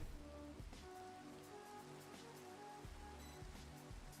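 Steady rain falls in Minecraft, a continuous soft patter across the whole stretch with faint in-game tones and clicks layered over it, no talking.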